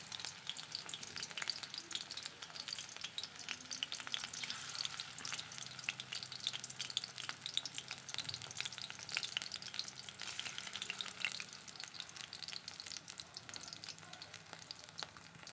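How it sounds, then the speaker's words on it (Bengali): Bora fritters fry in hot oil with a continuous dense sizzle and crackle, close and steady throughout with faint stirring, no one speaking. "বড়াগুলো ভেজে নেব"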